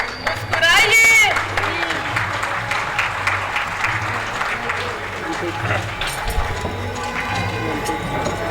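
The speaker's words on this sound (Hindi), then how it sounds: "जोरदार तालियां" Loud, sustained audience applause at the close of a stage play, the Hindi comedy Chaupat Raja, a dense roar of clapping from a crowd with scattered voices and cheers mixed in throughout.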